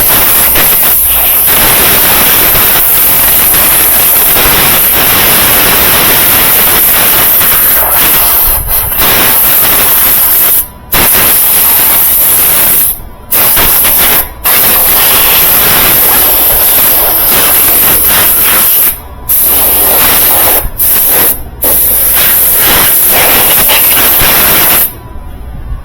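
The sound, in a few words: air hose blowing dust off a dryer door switch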